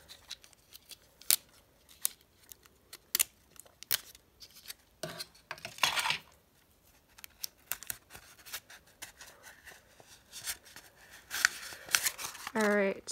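Tape is torn off a roll while building a small gnome and fairy house craft. Scattered close crinkles and scratches lead into a couple of brief, sharp ripping bursts, with a faint voice now and then.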